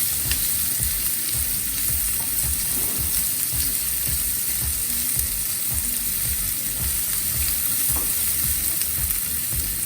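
Chopped capsicum sizzles and fries in a pan for an aloo corn frankie roll filling, a steady loud hiss with repeated stirring scrapes throughout, no voices heard.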